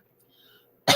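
A single sharp cough bursts out close and loud at the very end after near silence.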